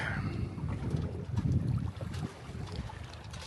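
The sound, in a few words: gusty wind on a sailboat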